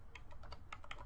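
Quick, light keystrokes on a computer keyboard click in a brief, uneven burst, faint and close, with no voices.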